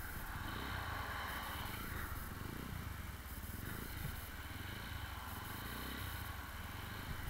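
Motorbike ridden along a busy road, with steady, loud broadband engine and wind noise held continuously throughout, no talk over it.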